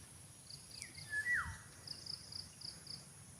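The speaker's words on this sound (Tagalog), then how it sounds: "At puro huni lang ng ibon ang maririnig natin dito." A single bird call swoops downward over quiet outdoor ambience on a hillside coconut farm, with faint high insect-like chirps pulsing in the background.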